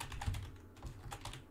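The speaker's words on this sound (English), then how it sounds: "You do this by going into your Windows search bar and typing in" Quick, close clicking of keys on a computer keyboard as someone types a search term into a Windows PC, a short burst of uneven taps.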